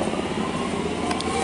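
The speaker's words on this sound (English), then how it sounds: "We have got an X-trapolis departing" An X'Trapolis electric suburban train departs Toorak station in Melbourne with a steady, close rail rumble and broadband wheel noise, ending in a couple of faint high squeals.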